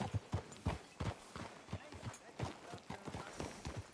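Horse hooves clip-clop in a steady walking rhythm inside a PS4 video game, quiet and even, with faint game sound around them.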